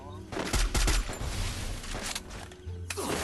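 Rapid gunfire in the Free Fire game, several loud bursts of automatic shots cracking in quick succession with sharp impacts between them.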